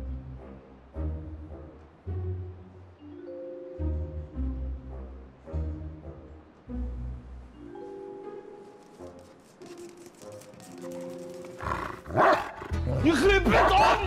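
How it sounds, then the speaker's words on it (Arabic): A new dog brought in by a building owner in an Egyptian comedy film barks in a few loud, sharp bursts near the end, following a stretch of music with voices speaking. "الحق مدام فريد صاحب العماره جاب كلب جديد"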